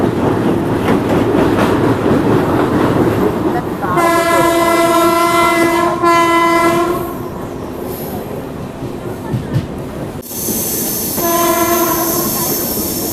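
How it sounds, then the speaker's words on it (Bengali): The 13149 Kanchankanya Express rolls slowly through Sevoke railway station in monsoon weather. There is a heavy steady rumble of wheels and carriages, interrupted by two long loud horn blasts a few seconds apart, heard from on board. "আমাদের ট্রেন এখন ধীরে ধীরে ক্রসিং করতে চলেছে সেবক রেলওয়ে স্টেশন।"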